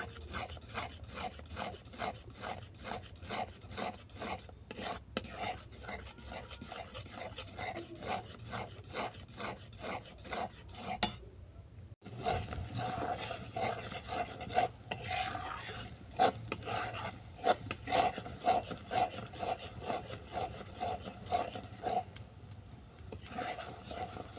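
A spoon or spatula scrapes and stirs jaggery syrup in a pan, rasping in steady repeated strokes up close with only brief pauses.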